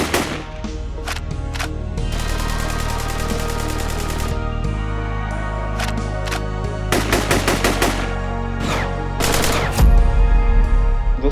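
Gunfire rings out during a terrorist attack on the Pakistan Stock Exchange, in loud rapid bursts and single shots. The shots sit over a steady, droning, music-like tone, with no speech.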